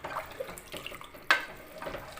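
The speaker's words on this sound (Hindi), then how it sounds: "अब मैं इसमें डालूँगी पानी और इसको 10 से 20 मिनट के लिए पकने के लिए रख दूँगी।" Water splashes into a cooking pot of fried goat trotters in a short pour with a sharp splash partway through, close and fairly loud, with no talking.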